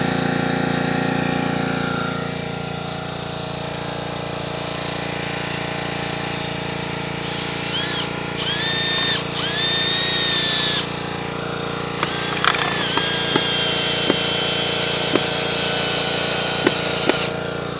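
A power drill drives screws into maple and beech wood, with two whirring bursts of the drill, then short clicks and knocks as the work is handled, over a steady background hum.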